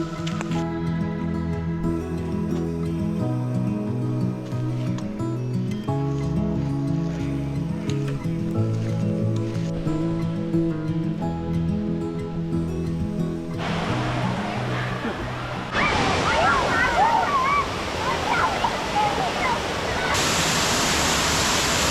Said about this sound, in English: It's raining now, so we're in a waterfall.